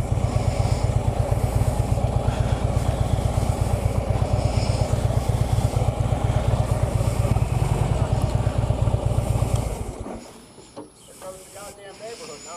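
Motorcycles idling at the start of a ride, a steady close rumbling engine drone with hissy texture that cuts off abruptly near the end, leaving quieter ambience and brief faint voices.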